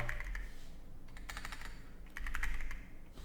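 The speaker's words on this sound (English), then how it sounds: "I just type in trial and I click on them" Soft clicking keystrokes on a computer keyboard, quick irregular bursts of typing at close range with short gaps, fairly quiet against a faint background hum.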